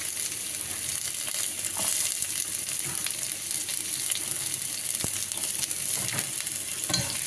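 Onions frying and being stirred in a pan while cooking pork belly in tomato sauce, a steady loud sizzle with occasional scraping stirs throughout.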